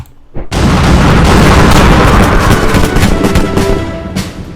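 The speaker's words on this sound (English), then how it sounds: "We're going to blow these guys to bits with our cannons, and we've got enough to do so." Cannon artillery barrage in the Napoleonic-era strategy game Wars of Napoleon: a dense, continuous roar of overlapping booms and blasts rising after a brief quiet start, loud and sustained, no talking.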